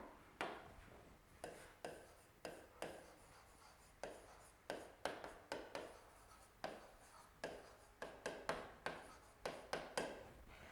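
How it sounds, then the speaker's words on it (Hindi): Marker or chalk taps and strokes on a board during a physics lecture form a faint, uneven series of short knocks and scratches, steady through the stretch with no talk over them. "यहाँ पर मैं लिख रही हूँ"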